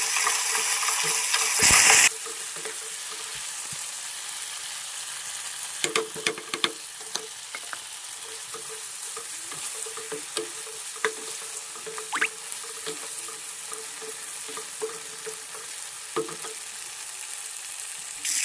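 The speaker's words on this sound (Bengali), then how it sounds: "এটা আমরা একটু ভেজে নেবো, একটু কষা কষা করে জাস্ট ভেজে নেবো।" Mustard spice paste sizzling and frying in oil in a pan for a Bengali bhola fish curry, a steady close hiss with scattered pops and stirring scrapes, preceded by a brief louder burst at the start.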